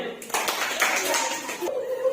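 A class of third-grade children clap together in a classroom, a dense burst of hand claps lasting about a second and a half with voices mixed in, then fading as talking carries on.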